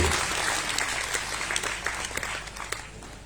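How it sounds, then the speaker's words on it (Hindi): A crowd at an ashram ground-breaking ceremony claps steadily in a dense, moderately loud round of applause that holds throughout. "तालियां जोरदार होनी चाहिए"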